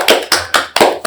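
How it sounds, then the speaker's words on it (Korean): A congregation claps during a church lecture, four loud, full-bodied claps in steady unison, evenly spaced about a quarter second apart, with no talking over them. "박수."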